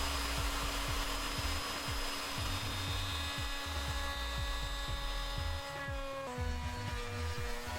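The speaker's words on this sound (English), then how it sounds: "After each pass, I advance the table towards the bit to cut deeper into the mortise." Router table cutting a mortise as the sliding table is pushed along, a steady high router whine with rhythmic rubbing and chattering from the wood, continuous and fairly quiet.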